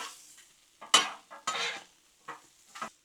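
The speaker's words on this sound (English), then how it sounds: "This sausage cooking in that bacon grease along with these peppers and onions." Sausage, peppers and onions cook in bacon grease on a Blackstone griddle, a quiet sizzle punctuated by several short bursts of spatula scraping and stirring.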